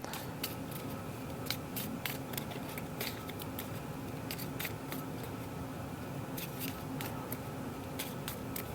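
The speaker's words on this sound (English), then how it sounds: "so I get to shuffle." A deck of cards from the Legendary Encounters: Alien deck-building board game being shuffled by hand, a steady stream of close, crisp riffling snaps and papery flicks running throughout with no talking.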